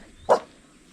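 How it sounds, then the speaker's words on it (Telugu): One short dog bark rings out at moderate distance in a small tribal hill village in Araku, then quiet follows. "ఈ ఊరికి వచ్చినప్పటి నుంచి ఒక కుక్క అయితే బాగా అరుస్తుంది"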